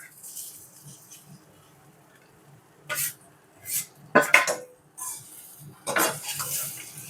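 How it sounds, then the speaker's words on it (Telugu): Idli pieces are tossed into a pan with fried onions and stirred, giving scattered clinks and scrapes of a metal spoon against the pan with soft rustling between them. The sounds are close and irregular, with no speech. "ఈ ఇడ్లీ ముక్కలను వేసుకుందాం."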